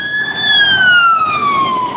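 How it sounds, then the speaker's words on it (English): An emergency vehicle siren wails steadily outdoors, its single tone sliding slowly downward across two seconds, loud and continuous over a low hum of distant road noise. "Every time I make a video, there's sirens."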